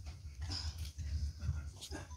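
A dog at a film audio launch event gives soft whimpers and panting breaths, close and fairly quiet, with a voice speaking underneath.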